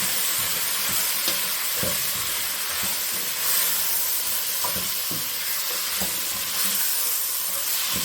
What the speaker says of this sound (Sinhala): හොඳට අල එකක් හොඳට මේක තෙලේ ටිකක් බැදෙන්න දෙනවා